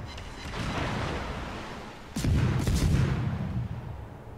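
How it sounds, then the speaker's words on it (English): Warship guns fire in World of Warships: a steady low rumble of naval gunfire, then a heavier, sharper salvo bursts in partway through and rolls on loudly. "That's us firing at the same time."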